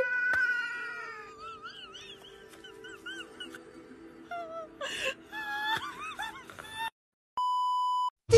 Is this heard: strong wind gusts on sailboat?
no